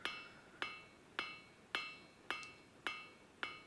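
Hammer strikes on hot steel while beveling the corners of tong reins at a forge: seven evenly spaced ringing metallic blows, each with a short bright decay, steady rhythm, no talk.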